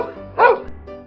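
A pet dog barking at a man on a street, a single short, loud bark standing out from a quiet background.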